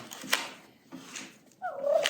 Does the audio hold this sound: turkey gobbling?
yes